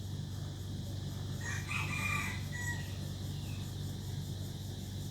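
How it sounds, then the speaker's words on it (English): Rooster crowing once, a moderately distant, drawn-out call set against a constant low hum of background noise, with no talking. "I was listening to one of these roosters out here just making all kinds of racket"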